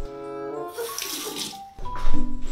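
Water runs from a tap in a steady, close rushing stream that dips briefly, then returns louder and fuller, with some tonal ringing over the flow.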